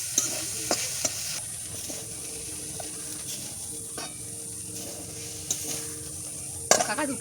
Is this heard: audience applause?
no